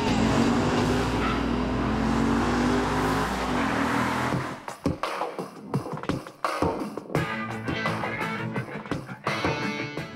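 A supercharged Dodge Ram SRT10 pickup truck roars at full throttle with brief rear-tire wheel spin on each upshift at Pomona Raceway, a loud sustained engine drone that then breaks into choppy, gusty bursts, probably wind buffeting.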